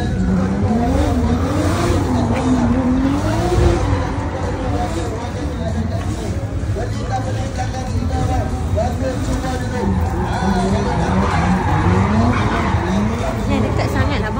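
A Mazda RX-7 drifting, its tires squealing in long wavering wails over a revving engine, with crowd chatter and babble underneath throughout.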